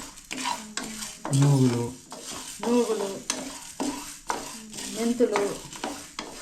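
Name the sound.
roasting spices and lentils in a pan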